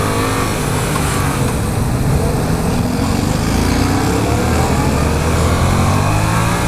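A 2015 Yamaha FZ-07 motorcycle accelerates hard through the gears on a test ride at a motorcycle show in Long Beach, with loud, dense engine roar and wind rush throughout.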